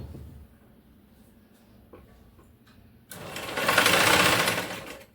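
A sewing machine stitches a blouse neck piece, starting with quiet handling and soft clicks, then running in one steady, close whirring burst of about two seconds.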